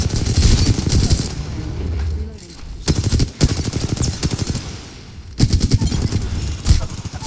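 Video game gunfire, loud close bursts of rapid automatic shots in several volleys separated by short gaps, with dense rattling fire throughout.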